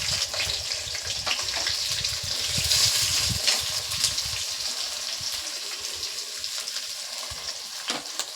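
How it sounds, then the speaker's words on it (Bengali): Chopped onions go into hot oil for a Bengali mutton curry, giving a bright, crackling sizzle that swells near the start and then settles into steady frying with scattered pops. "আর তেলটা গরম হয়ে গেছে, তেলের মধ্যে দিয়ে দেব কুচানো পেঁয়াজ"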